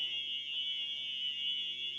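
A store alarm inside an abandoned mall in Missouri gives a loud, continuous high-pitched electronic tone that stays steady and unbroken throughout, with a faint low hum beneath it and no talking.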